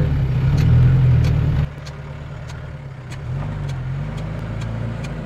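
A taxi's engine drones loudly while driving, then drops in level as it eases off, and picks up again with a steady hum from inside the car.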